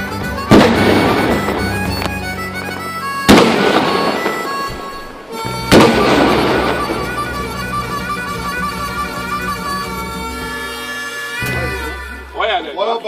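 A cannon fires during a historical re-enactment battle at the Hafftage festival in Ueckermünde: four loud, sharp booms with long rumbling tails, spaced several seconds apart, with people talking between the shots.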